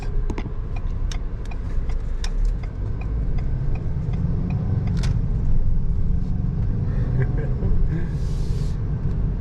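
A 2021 Ford Bronco Sport Badlands SUV drives along a street, heard from the cabin as a continuous low road and engine rumble with scattered light ticks and rattles.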